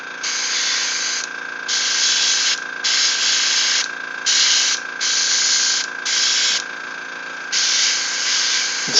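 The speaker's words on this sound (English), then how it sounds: "So just spraying a little black primer." Black primer sprays from an aerosol can in seven bursts of about a second each, close and loud hissing, with brief pauses between them over a faint steady tone.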